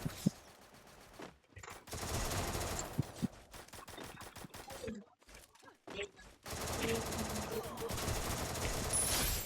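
Rapid automatic gunfire from a mobile shooter video game, crackling in fast bursts with short silent gaps between them, fairly quiet overall, with a voice occasionally speaking over the game.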